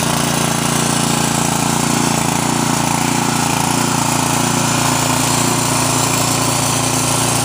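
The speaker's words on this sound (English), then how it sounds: "And there it is, fired up on one pull." A Sears snowblower's small gasoline engine runs loud and steady right after starting on one pull, a constant close buzzing roar with no pauses and no talk.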